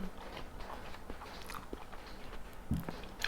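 Quiet, close crunching and biting of crispy food, with irregular crisp snaps over a soft background and no talking.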